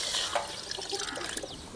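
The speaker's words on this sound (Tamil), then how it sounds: "கொஞ்சம் தண்ணி ஊற்றிக்கலாம்." Water is poured into a pot sitting on a lit stove, a soft, faint splashing and trickle that lasts under two seconds.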